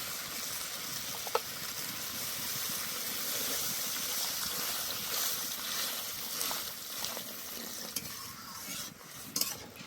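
Water poured into a pan of shrimp and green tomato curry gives a faint, continuous hiss and bubbling sizzle, with a few soft clinks, heard close up with no voices.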